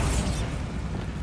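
The Bombarda blasting spell in Hogwarts Legacy goes off as one short, heavy explosion: a loud, deep boom that rumbles briefly and then dies away.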